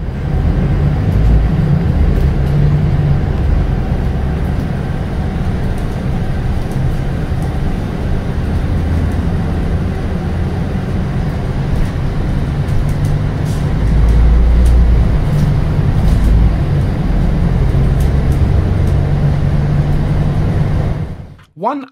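A Scania K320UB rigid route bus with a Volgren Optimus body and a 9-litre 320-horsepower turbo diesel, heard as a continuous low engine drone with road rumble that holds steady throughout, then cuts off abruptly at the end.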